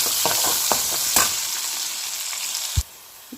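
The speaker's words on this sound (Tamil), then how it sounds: "இப்போ கடுகு நல்லா பொரிஞ்சிட்டுருக்கு. இப்போ இதில் வெங்காயத்தை சேர்த்துக்குவோம். இப்போ வெங்காயத்தை நல்லா வதக்கிக்கலாம்." Onions sautéing in hot oil with mustard seeds in a home kitchen, a steady close sizzle with occasional sharp pops and spatters, then a brief clunk as the frying carries on alone.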